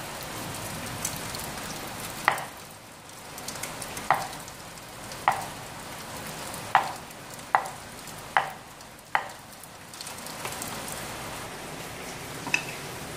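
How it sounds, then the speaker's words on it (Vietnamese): Tofu pieces frying in a pan, heard as a soft, continuous crackle with a series of sharp pops and spits at irregular intervals, fairly close and without speech. "Đậu mình sẽ sắp ra thành miếng để mình rán lên nhé"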